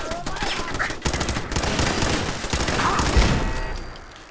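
Automated turret fire in Fallout 4, a dense, sustained rattle of rapid shots filling the whole stretch at steady loudness, with a brief burst of talk near the end.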